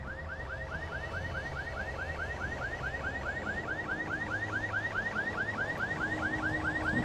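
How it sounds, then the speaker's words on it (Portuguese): Car alarm going off in the game Alan Wake Remastered, a rapid repeating whoop-like electronic siren cycling steadily over a low background rumble, continuous and fairly loud throughout. "Disparou o alarme."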